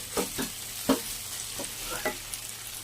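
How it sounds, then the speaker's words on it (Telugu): Tomatoes with curry leaves and salt frying in a pan, a continuous sizzle broken by several distinct stirring scrapes at an uneven pace, close and alone without talk. "కాసేపు వేగాక అప్పుడు కొద్దిగా సాల్ట్ వేసుకొని మళ్ళీ వేయించుకోవాలి."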